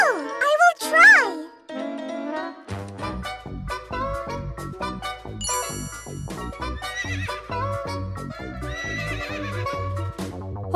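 A horse whinnies with a rising, falling call near the start, followed by steady clip-clop hoofbeats and light jingling, with a voice talking in the background.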